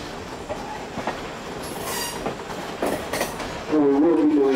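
A train runs on Norfolk Southern track, its wheels clattering and squealing against the rails in a steady rolling rush, with a sharper metallic screech rising near the end.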